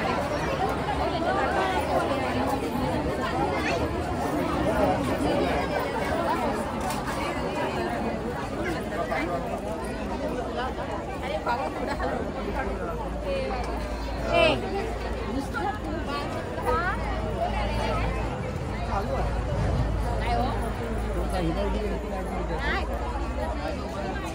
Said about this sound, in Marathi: हे बघा खूप गर्दी आहे